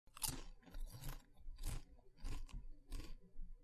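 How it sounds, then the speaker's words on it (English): Someone munches crunchy Christmas cake close up, a steady run of loud, crackling bites and chews repeating about every half second with no talk. "She munched Christmas cake"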